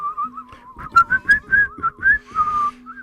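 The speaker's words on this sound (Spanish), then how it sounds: "Silbo y toco la flauta, me parece" A person whistles a lilting folk melody live in an AM radio studio, clear and close, with rapid trills and bright sustained notes carrying the tune alone for a few seconds.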